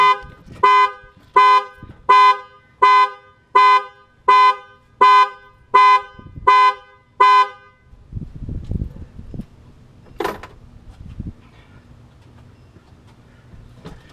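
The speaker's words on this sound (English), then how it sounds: "I leaned on the keys and sent off the panic alarm" The panic alarm of a 2013 Expedition, set off from the key fob, blares eight loud, evenly spaced horn honks and then cuts out, leaving quiet garage clatter and a faint hum.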